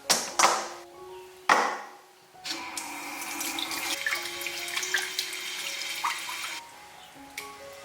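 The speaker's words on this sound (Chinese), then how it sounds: "解冻好了，我们把它清洗干净。" Kitchen tap running while thawed lamb ribs are rinsed, starting with a few sharp knocks and splashes before a steady stream of water pours and splatters close by for several seconds, then eases off, with no talking.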